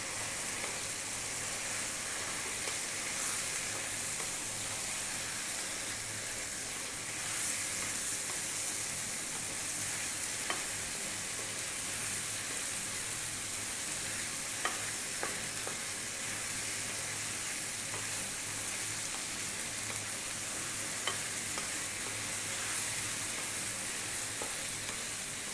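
Spicy Indian-style chicken fries over maximum heat, giving a steady, even sizzle and hiss that runs throughout with faint stirring clicks, fairly quiet and with no talking.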